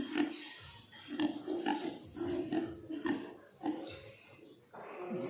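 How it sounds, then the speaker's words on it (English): Pigs at a feeding trough grunt and oink repeatedly in short, close bursts, with several animals overlapping at a moderate, uneven level. "Pigs are fed and cleaned out."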